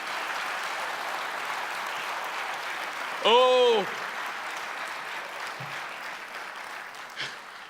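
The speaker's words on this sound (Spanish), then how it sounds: "Clap your hands for Jesus." A congregation applauds during a bilingual Sunday church service, a continuous rain of hand claps across the room, broken midway by a short sung or exclaimed voice and a couple of brief louder sounds.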